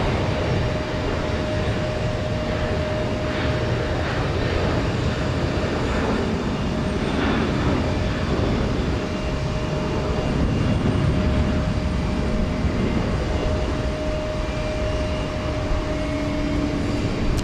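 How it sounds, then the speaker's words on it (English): A Boeing 737-700 airliner departing from Houston Intercontinental gives off a loud, steady roar of jet engines that holds throughout with little change, with no talking over it. "This should be flight 1371, a 737-700 off to Jackson,"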